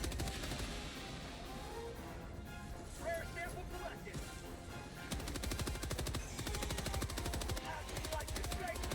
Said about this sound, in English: I'm pretty sure that's the regular machine gun they have.